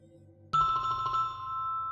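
A telephone rings with a bright electronic tone that starts abruptly and sustains steadily, heard alone and close.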